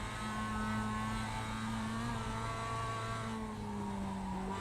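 A Mazda race car in iRacing on the Charlotte Roval climbs through the revs under steady acceleration, a loud, continuous droning engine note with rising whine, heard alone without talk.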